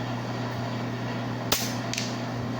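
An upgraded PCP air rifle fires a single sharp, close crack, followed moments later by a fainter secondary snap against steady background hum.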